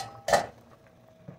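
A lid clanks down onto a pot of boiling chicken liver and gizzards for calderita, one sharp metallic clatter with a faint second tap a moment later.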